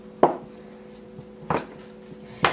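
A knife cutting a bar of loofah soap into smaller chunks, three sharp separate chops against a board spaced about a second apart, close and otherwise quiet.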